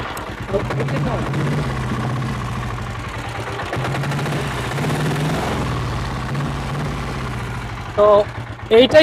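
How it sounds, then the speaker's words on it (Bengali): An old diesel Royal Enfield Bullet motorcycle, about 32 years old, idles with a steady, loud, low thumping beat, and voices join near the end. "ডিজেল বুলেটের ইঞ্জিনের আওয়াজ"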